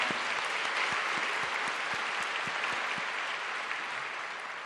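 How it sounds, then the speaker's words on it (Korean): A church congregation at a Christmas service applauds in a dense, sustained round of clapping, with a few sharp individual claps standing out, fading slightly toward the end. "기쁜 성탄의 영광의 박수 올려드리겠습니다"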